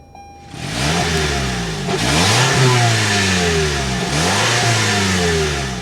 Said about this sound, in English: start up this 4-cylinder so you can hear that exhaust note